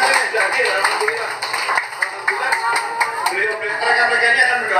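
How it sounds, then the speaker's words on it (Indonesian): Applause for orphans at an Eid halal bihalal gathering in 2025, scattered clapping of moderate loudness running under and around a speaker's voice on a microphone. "Mohon tepuk tangan untuk yatim piatu yang sudah hadir."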